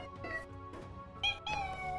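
A kitten gives a few short, high, whiny meows in quick succession, close and fairly clear against quiet background noise.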